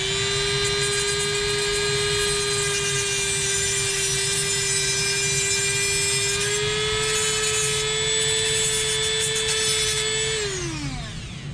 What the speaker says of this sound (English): The easiest way to do that is just kind of cut the tip off.